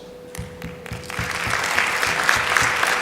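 Applause from an audience after a panel dialogue at a UN Water preparatory meeting in Dakar starts with a few scattered claps and swells into steady, full clapping over a faint constant hum.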